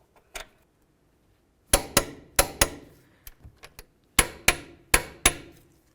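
Sharp metallic clicks and knocks from a wrench snugging and torquing the brake caliper bolts on a 2000-2005 Buick LeSabre, with a clustered series of close, loud impacts separated by short pauses.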